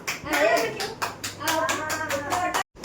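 A small child clapping hands at home, a quick run of light claps mixed with an adult's encouraging talk.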